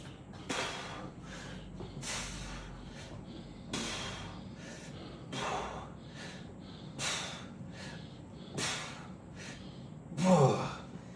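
Heavy, forceful breaths during a weightlifting set focused on the traps, repeating as a series of sharp exhales and snorts at roughly one-second intervals, with a louder gasp near the end.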